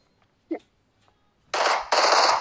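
After a faint click, two loud bursts of gunfire erupt back to back, harsh and close.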